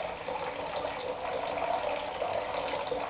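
Continuous hissing stream of water running from a leaking gadget, steady and fairly close, with no pauses or talk.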